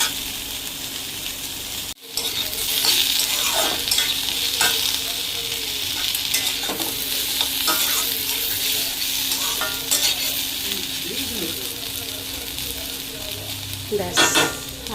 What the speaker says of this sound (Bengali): তাই এখন একটু আলু ভাজা করে নিচ্ছি